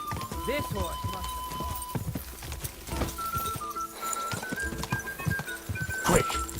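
Hooves of a galloping horse in the video game Kingdom Come Deliverance II pound in quick repeated beats, mixed with music and brief voices.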